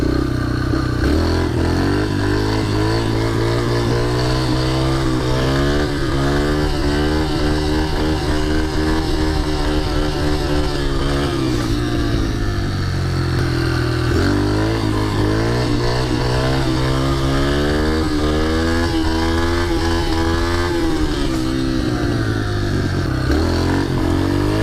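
A pit bike engine runs loud and close for the whole stretch, revving up and easing off in repeated waves with a buzzy, clattering tone and no talk.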